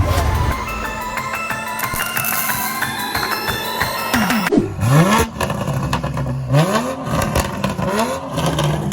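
Revving from a 2020 Toyota Supra with its muffler deleted: a dense, raspy engine roar for the first few seconds, then sharp rising and falling rev sweeps with crackles, loud and close, with a brief voice mixed in.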